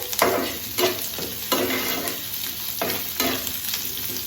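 Garlic, ginger and onion frying on a medium flame, a constant bright sizzle broken by several rhythmic scraping stirs of a spoon against the pan, heard alone.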